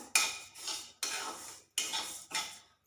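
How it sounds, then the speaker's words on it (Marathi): Urad dal being dry-roasted and stirred in a pan, heard as about four repeated scraping, rattling strokes of a spoon against the metal pan, close and fairly quiet, with no talk. "उडदाची डाळ आपल्याला भाजून घ्यायची आहे तर हे भाजून घेऊया"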